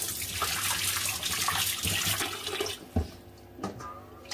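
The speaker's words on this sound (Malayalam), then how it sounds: "ഇനി അതിലേക്ക് വെള്ളം ഒഴിക്കാം." Water pours and splashes into a clay pot while sardines are washed with rock salt: a close, steady rushing gush that stops after a few seconds, followed by scattered sloshes and splashes.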